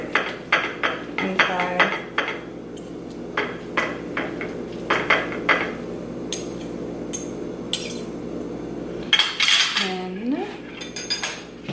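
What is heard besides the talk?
cutting open and mashing sweet potatoes with cutlery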